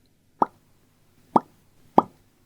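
Three short, wet mouth pops, spaced apart with silence between them, a voice imitating bubbles popping up close.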